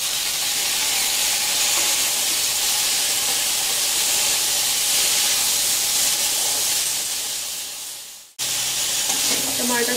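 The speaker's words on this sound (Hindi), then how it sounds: "टमाटर का जो है भून लेना है" Tomatoes sizzling loudly as they fry with onion and garlic, a close, continuous hissing spatter that cuts out briefly near the end before resuming.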